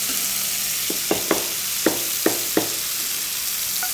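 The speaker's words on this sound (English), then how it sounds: "I'm going to add the porcinis." Porcini mushrooms sizzle in a hot pan after beef has been cooked in it, a steady hiss with several sharp spatters and crackles, close and fairly loud, with no talk.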